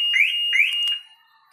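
A Maruti Suzuki car alarm, set off by holding the key fob buttons, gives two loud rising electronic whoops close by, then a warbling tone that fades away.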